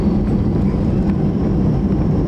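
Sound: Air India aircraft rolling on runway for takeoff

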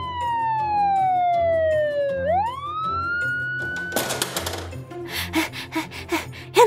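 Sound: ambulance siren, toy Peppa Pig video

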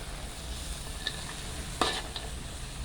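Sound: stirring bean sprouts and cauliflower in a pan

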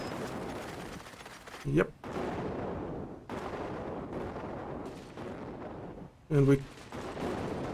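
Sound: gunfire in the video game Cepheus Protocol

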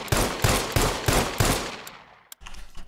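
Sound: gunfire shooting a wooden board in SCUM video game

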